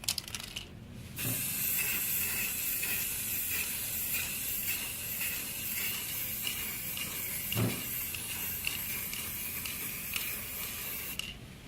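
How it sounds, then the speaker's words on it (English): Spray chrome paint hisses steadily from an aerosol can onto a fog lamp, a continuous close, bright hiss lasting most of the time with a brief pause near the start and a soft knock midway. "For this we are again using our spray chrome paint and let's get started."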